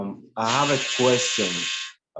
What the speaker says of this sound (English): sorry for the noise. It's the dryer.